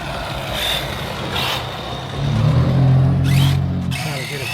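Arrma Fury brushless RC truck running on 4S at night, its motor whirring in surges with a higher sustained whine in the middle, plus a few brief scuffing bursts from the tires.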